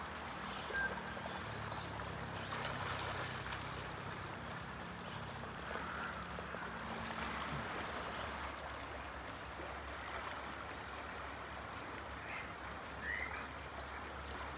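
River water flows in a steady, continuous rush, fairly soft and even throughout. A low droning hum sits underneath during the first half.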